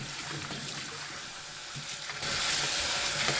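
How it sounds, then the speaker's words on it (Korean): Steady running water splashing and rinsing small potatoes, continuous and fairly close, growing a little louder partway through as the flow strengthens. "껍질은 벗기지 말고 흙만 씻어내시면 돼요. 2번 헹굽니다."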